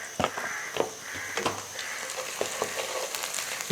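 Chopped onions fry and get stirred with red chili powder, crushed red chili and salt. A steady sizzle runs throughout, with sharp scraping and clinking strokes of the spoon against the pan at irregular intervals.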